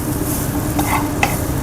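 Raw mango chutney with chili powder and Kashmiri red chili being stirred in oil in a pan, a dense, loud, steady sizzle with a couple of soft spoon scrapes, no talk.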